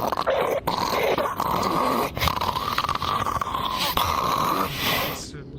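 A voice imitates loud snoring in long, rasping, growly pulls with brief breaks between them, close and heavy, filling the moment.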